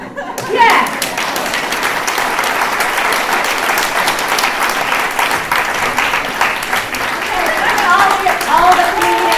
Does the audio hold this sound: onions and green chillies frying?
no